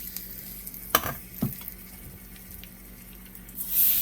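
Pork chops hit a hot pan and sear with a steady sizzle, a couple of sharp clanks as they are laid in, and the frying hiss swelling louder toward the end.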